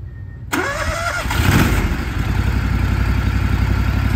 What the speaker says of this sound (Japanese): これをちゃんとリセットしてあげると、ちゃんとエンジンがかかるようになります。